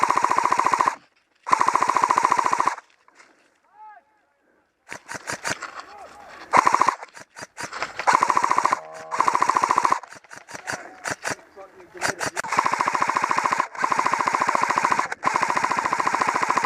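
Airsoft guns fire bursts of rapid shots at windows during a milsim game at an airsoft site, loud and close in several long strings broken by pauses, with people talking in between.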